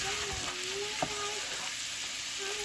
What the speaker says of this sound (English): I'm just browning some ground venison